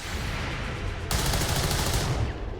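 Rapid automatic gunfire erupts in a modded XCOM 2 battle, a dense burst of close, loud crackling shots following a moment of low background ambience.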